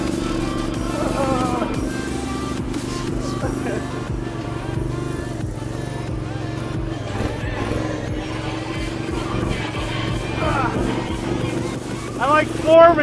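A mud mower engine runs fast with a steady, droning roar and wind buffeting, under intermittent excited talking, swelling louder near the end.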